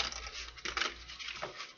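Tarot cards shuffled by hand, a soft continuous papery riffle and patter with a few brighter flurries, close and steady, without voices.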